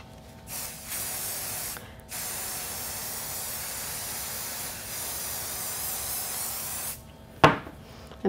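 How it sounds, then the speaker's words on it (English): Crafter's Companion adhesive spray hisses onto paper in two long continuous bursts, close and loud, separated by a brief pause and ending with a short rattle and clack of the can. "So I'm going to use this new spray, Crafter's Companion."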